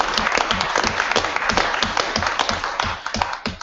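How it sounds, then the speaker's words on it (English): An audience applauds at a city council meeting in Washington City, Utah, giving steady, moderately close clapping with distinct individual claps throughout. "that deserves a round of applause."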